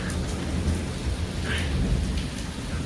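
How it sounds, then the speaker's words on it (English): Thunderstorm with steady heavy rain hissing on surfaces and a low continuous rumble of thunder underneath, loud and enveloping throughout. "we get a lot of thunderstorms like this"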